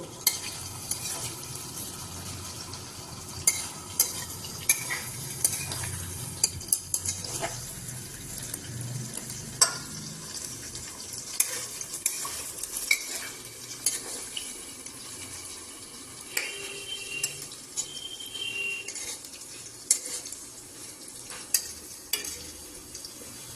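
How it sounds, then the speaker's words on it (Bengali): Potato batches frying in oil sizzle softly in the background while frequent sharp scrapes and clinks of a stirring spoon punctuate the steady crackle. "আমি কয়েকটা ব্যাচে আমি ভেজে নেবো, একবারে সব দেবো না।"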